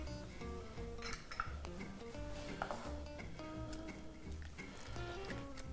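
Egg being worked into buñuelo dough in a bowl: soft, irregular clinks and scrapes of a utensil against the bowl, close and fairly quiet, with a busy kitchen clatter throughout.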